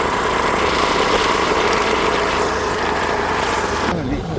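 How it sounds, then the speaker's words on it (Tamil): A vehicle engine pulls hard under load, a loud steady droning rumble that runs the whole time and lifts slightly near the end. "இது வண்டி இழுக்குது."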